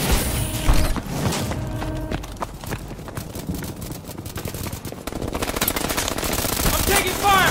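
Gunfire in the Call of Duty Advanced Warfare multiplayer game on Xbox One, rapid automatic bursts and repeated shots in dense, loud volleys mixed with game effects.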